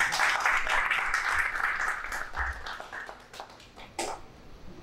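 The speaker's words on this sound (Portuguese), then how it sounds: "Palmas para você." Applause at a plenary meeting of an academy: a room of people clapping, moderately loud at first and gradually thinning out, with a few late scattered claps near the end.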